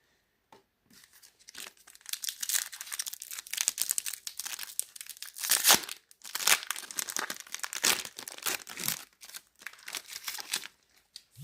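Foil wrapping of a Stranger Things trading card pack being torn and crinkled open by hand, a string of close, sharp crackling rips and rustles with short pauses between them, no talking.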